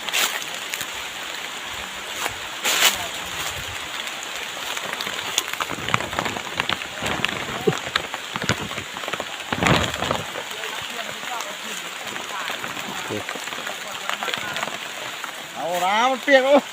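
Rain falls steadily through a forest, a dense patter on leaves and surfaces running throughout, with people talking intermittently over it.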